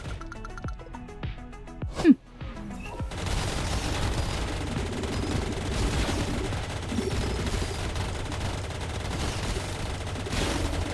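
Dense, continuous barrage of missile launches and gunfire in a video game, a sustained loud roar of overlapping blasts after a few sharp hits and one louder bang near the start.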